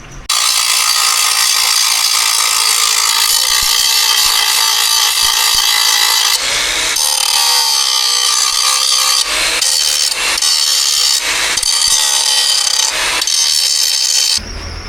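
Metal grinder working down the bucket mount of a mini excavator, a loud harsh continuous grinding rasp with brief dips as the tool shifts against the steel.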